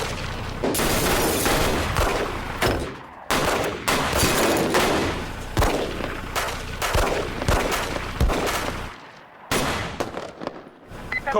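A rapid gun battle inside a school building, with sharp, loud shots in bursts and single cracks echoing close by, some heavy booms mixed in, and almost no voices.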